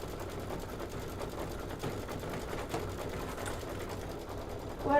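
A sewing machine pieces fabric with thin Deco Bob thread, a steady continuous whir running evenly for several seconds with a louder burst at the end, no voices.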